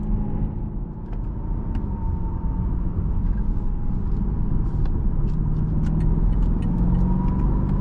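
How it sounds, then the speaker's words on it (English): 2021 BMW M8 Gran Coupe V8 engine heard from inside the car while accelerating, a deep, steady rumbling drone that builds slightly, with faint clicks and road noise over it and no talking. "That V8 sounds phenomenal."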